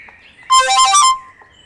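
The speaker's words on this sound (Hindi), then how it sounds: "किसका फ़ोन आ गया?" A phone ringtone plays one bright, loud, chirpy electronic burst lasting about half a second, heard alone in a quiet indoor scene from a Pakistani television drama.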